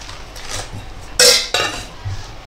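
Spices for a fresh mango pickle being mixed in a metal vessel, a few clanking scrapes and clinks of a spoon against the pot, close and loud.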